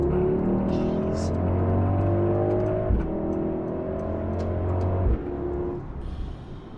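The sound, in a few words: Mercedes AMG GLS 63 engine and exhaust accelerating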